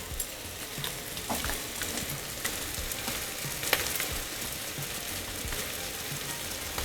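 Vegetables sautéing with biryani masala in a pan for Maharashtrian masale bhat, a steady close sizzle and crackle throughout with occasional stirring scrapes, no talking.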